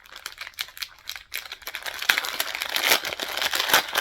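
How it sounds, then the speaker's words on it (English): A plastic bag crinkles and rustles up close as crochet needles are pulled out, with irregular crackling bursts growing busier and louder toward the end. "There's going to be some crinkling."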